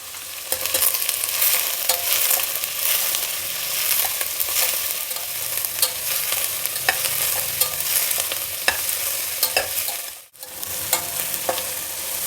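Onion, carrot and beans frying in a spiced oil tempering with garlic and curry leaves for masala rice, stirred in the pan; steady close sizzle with scraping stir strokes throughout, briefly cut near the end.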